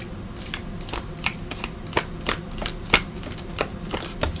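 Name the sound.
shuffling tarot cards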